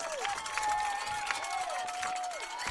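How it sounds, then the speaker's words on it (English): Crowd noise at a high school football game between Walters and Velma Alma, with cheerleaders cheering and cowbells ringing steadily in the stands, a continuous busy mix with voices throughout. "I hear the cowbells going hardcore."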